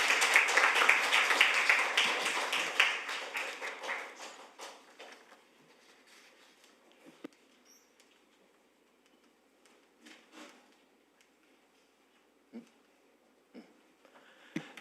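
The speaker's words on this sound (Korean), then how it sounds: "큰 박수 부탁드립니다." Audience applause at a National Assembly Research Service briefing for reporters and aides, dense and loud at first, then thinning and fading out over about five seconds, followed by near silence with a few faint stray sounds.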